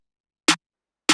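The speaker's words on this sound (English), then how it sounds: "And then we have the snare," A snare drum sample in an FL Studio trap beat strikes twice, each a short, sharp, bright crack heard alone with silence in between.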